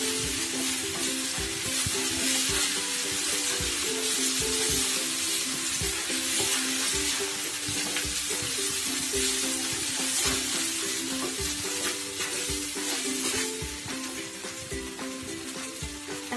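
Ginger paste frying in a pan for plain pulao, a dense continuous sizzle with stirring scrapes, steady and close throughout.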